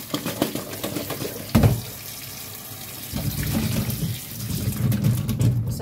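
Water runs from a kitchen tap while sweet potatoes are washed, an uneven close splashing stream with sudden louder bursts and clattering, and no voices.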